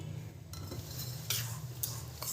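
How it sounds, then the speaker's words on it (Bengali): Semolina being mixed with water for appam batter, a spoon scraping and clinking against a bowl in a few quick strokes, close and fairly quiet over a low steady hum, with no speech. "দিয়ে ভালো করে মিশিয়ে নেব সুজিটাকে।"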